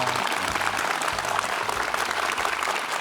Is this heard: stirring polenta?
no